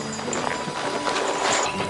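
Horse hooves clip-clop as a horse pulls a wagon. The steady clopping is of moderate loudness and sits within a dense, noisy background.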